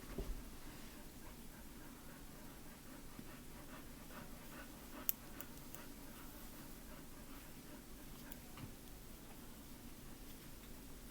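Dogs pant quietly and steadily in an indoor room, a faint continuous breathing rhythm with one brief click partway through.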